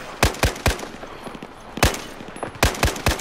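Gunfire in Battlefield 4, loud close shots fired in quick groups of two or three with short pauses between bursts, no talking over them.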